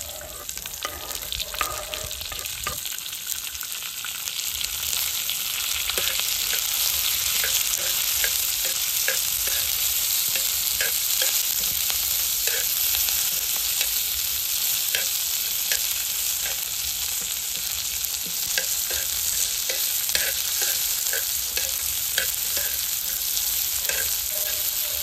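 Chopped onions and tomatoes fry in a pan for a savory sorghum masala idli dish, giving a constant close sizzle broken by repeated scraping stirs, with no talking.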